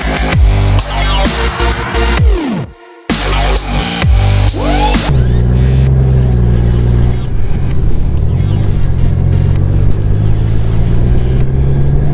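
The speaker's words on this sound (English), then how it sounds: "I'm starting to see a lot more semi-trucks on the highway" Loud, close roar of interstate highway traffic with semi-trucks, a constant rumbling drone and wind noise with pitch sweeps of passing vehicles and a brief sharp dropout partway through.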